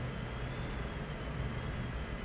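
El Al airliner taking off from Tel Aviv airport, heard as a steady, broadband jet engine roar with deep low rumble, continuous and fairly distant throughout, no voices.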